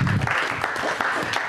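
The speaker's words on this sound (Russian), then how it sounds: "Поддержите, пожалуйста, аплодисментами Светлану Владимировну." An audience claps in applause at a live televised evening show from the Mozyr district, a loud dense patter of many hands lasting throughout.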